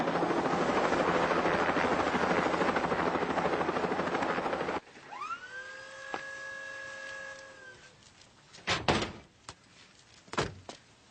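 A loud helicopter rotor roars steadily for about five seconds, then cuts abruptly to a quieter scene with sustained tones and a few sharp thuds like sliding doors.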